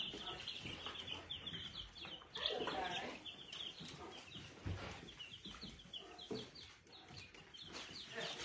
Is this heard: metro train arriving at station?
no